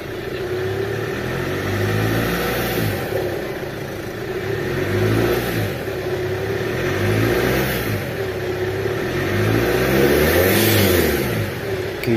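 Diesel engine of a Chevrolet Captiva being revved after a repair, a steady loud mid-range drone with several rising and falling swells of throttle across the clip, no talking.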